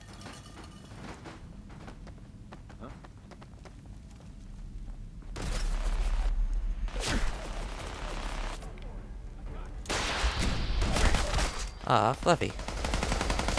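Rifle fire in Fallout 4 with The Old Ones mod, loud bursts of shots clustering in the middle and near the end over a background game ambience, with someone speaking briefly between them.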